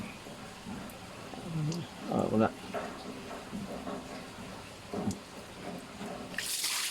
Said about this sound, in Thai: น้ำออกมาเลย พุ่งมาเลยนะครับ